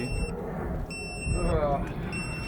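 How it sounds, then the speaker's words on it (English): A car sounds repeated high electronic beeps during a jump start, three sustained tones with short gaps between them, heard under low background noise and a brief voice. "There's a beeping."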